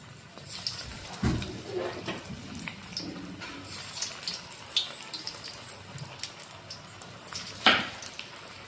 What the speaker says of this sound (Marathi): आता आपण हे बॉल्स याच्यात सोडून घेऊयात